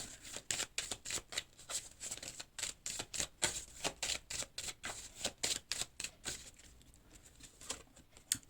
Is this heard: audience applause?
no